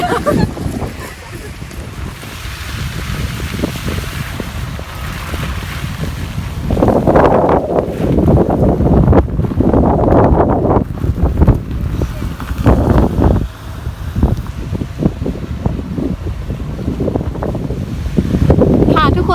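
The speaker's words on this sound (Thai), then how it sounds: "ตอนนี้นะคะคือฝนตกหนักมากแล้วก็ ลมแรงมากค่ะ" Strong wind buffets the microphone with a constant roar of heavy rain at a campsite, swelling in gusts throughout.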